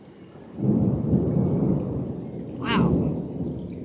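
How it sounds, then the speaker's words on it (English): Thunder rumbling through a rainstorm with high winds, two deep rolling peals, the second swelling briefly, over a soft background wash of rain. "There's still thunder going on."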